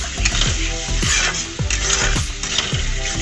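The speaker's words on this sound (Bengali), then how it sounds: "ভালো করে কষাবো।" Paneer masala spices sautéed in oil in a pan with a little sugar, a loud continuous sizzle broken by repeated scraping stirs of a spatula against the metal, no voices.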